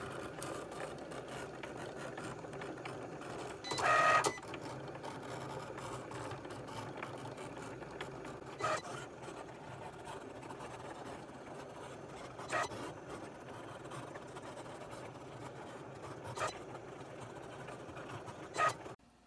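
A Cricut Explore Air 2 cutting machine slices appliqué fabric pieces, giving a faint, steady motor hum with a few sharper clicks and brief bursts of movement spaced through the run.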